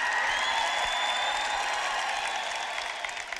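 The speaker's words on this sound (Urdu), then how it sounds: "صرف ادھر کے لوگ تالیاں بجا رہے ہیں۔" An audience in a hall claps from one side of the room, giving a dense, continuous patter of applause that slowly fades toward the end.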